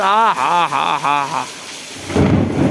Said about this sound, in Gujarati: કેટલા કડાકા ભડાકા સાથે વરસાદ પડી રહ્યો છે મિત્રો